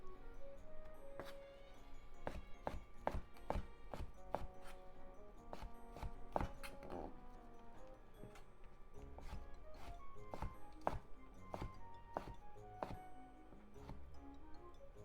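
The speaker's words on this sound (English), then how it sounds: "Let's cut them into thin slices." A knife slicing bacon into thin slices on a board, a steady series of quiet sharp taps and thuds in an irregular rhythm throughout, close and faint, without speech.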